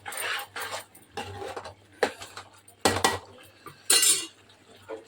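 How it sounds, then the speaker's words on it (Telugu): Metal spoon scraping and clinking around a pan while fried coriander and carrot pieces are stirred, in several distinct bursts with short pauses between, close and moderately loud. "కొత్తిమీర, క్యారెట్ ముక్కలు వేయించుకున్నవి ఒకసారి ఇలా తిప్పుకొని"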